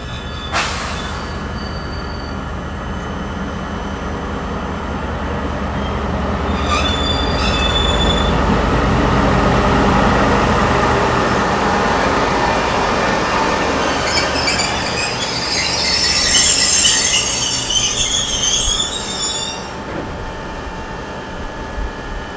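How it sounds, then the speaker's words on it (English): A DL class diesel locomotive rolls in hauling its convoy with a flatbed wagon added, a steady heavy rumble building as it nears, then sharp high wheel squeals rising over the noise for several seconds before fading. "DL 9233 arrives with the same convoy we saw leaving Plympton, albeit with the addition of flatbed wagon ES384."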